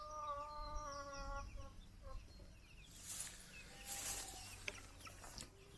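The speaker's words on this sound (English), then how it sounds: "That is a cream leg bar cockerel" A cream legbar cockerel and hens on a smallholding cluck in a run of repeated calls, the clucks fading into rustling and scratching partway through.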